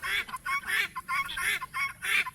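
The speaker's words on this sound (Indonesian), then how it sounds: "berisik banget ayam mutiaranya" Guinea fowl kept among mixed poultry call noisily at close range. Their harsh, rhythmic honking cackles repeat in quick bursts, about eight in a row, loud and with no talk.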